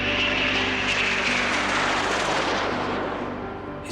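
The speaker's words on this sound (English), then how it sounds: "And there's a fly past of Typhoons from John's previous squadron." Eurofighter Typhoon jets fly past at a memorial, a loud, broad jet roar that peaks and then slowly fades as the aircraft move away.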